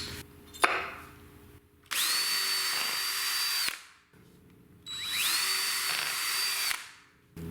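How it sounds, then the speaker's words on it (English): A power drill bores screw pilot holes into wooden clamps for DIY gymnastics parallel bars, in two loud sustained whirring bursts of about two seconds each, separated by short pauses, close up with no talk. "So we mark all the clamps on where we're going to pre-drill for the screws"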